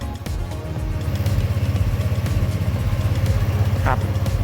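A motorcycle engine, started by a remote with an anti-theft system, idles steadily up close with a low, even putter that runs throughout.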